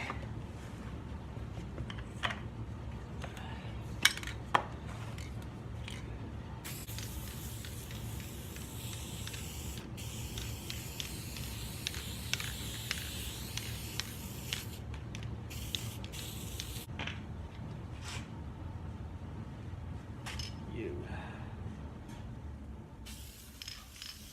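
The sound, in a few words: spraying high-tack gasket adhesive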